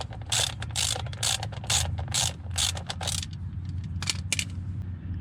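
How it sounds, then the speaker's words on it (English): A ratchet loosening the oil drain plug on a 1994 Toyota Camry gives a rapid run of close, sharp clicking strokes, then a pause and a couple more clicks, over a low steady hum, with no talking. "put your ratchet on there"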